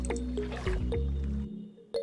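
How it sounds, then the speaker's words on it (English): Water pours from a bucket in a Minecraft-style game, a short gurgling, squishy splash that fades out, followed by a single brief drip-like blip. "Simply use a water bucket,"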